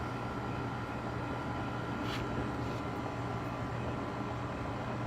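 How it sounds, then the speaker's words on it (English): An electric fan running indoors, a steady, even whooshing hum that fills the background at moderate level without pauses or speech. "Sorry about the fan turning on at the end there."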